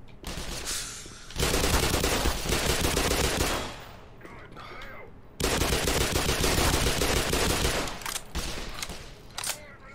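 Two long bursts of rapid automatic assault rifle fire in the video game Black Mesa, each lasting a couple of seconds, loud and close, separated by quieter gaps with faint background noise.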